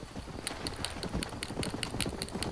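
Horse hooves clip-clopping at a steady trot in the Western video game Red Dead Redemption, a continuous rhythmic patter of hoofbeats with no talk.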